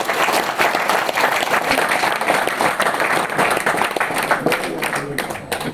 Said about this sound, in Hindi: चलो जो भी है तालियां बजाइए जोर से।